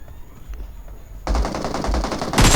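Gunfire in the mobile battle royale game PUBG Mobile: a quiet stretch, then a sudden loud burst of rapid automatic fire that keeps going, with a sharper, brighter volley at the very end.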